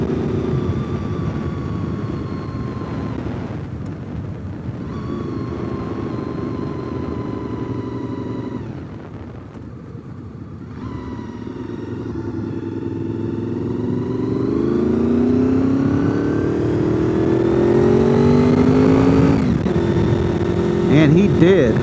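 A motorcycle riding along a newly paved road near Tellico Plains, its engine droning steadily and rising in pitch as it accelerates and shifts, with wind noise and someone talking over it.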